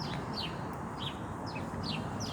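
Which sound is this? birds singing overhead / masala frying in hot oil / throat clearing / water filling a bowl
birds singing overhead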